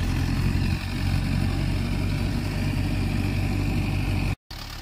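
A tractor engine drones steadily for ploughing a field, a loud, low, continuous rumble heard close by with no pause.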